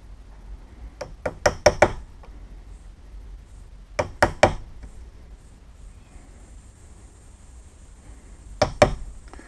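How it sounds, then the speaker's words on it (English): Sharp wooden knocks from a chisel driven into a door to cut out the recess for a digital code lock, arriving in three tight bursts of rapid strikes separated by pauses, close and fairly loud with no talking. "Okay, now we've chiseled it round"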